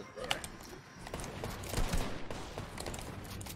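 A quick flurry of gunshots in a battle royale video game, moderately loud and ragged, with several overlapping cracks over about three seconds.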